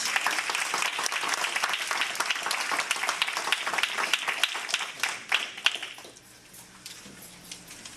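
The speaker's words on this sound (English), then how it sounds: "So please give him a round of applause." Audience applause at a mayoral debate greets the moderator, a dense wash of clapping from many hands that holds steady for about six seconds, then fades out to a quiet room.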